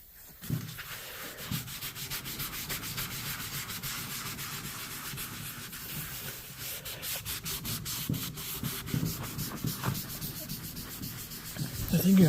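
Sandpaper works rough, thin paint on a 1969 Sears snowmobile, giving close, continuous scratchy rubbing in quick back-and-forth strokes that grow louder toward the end.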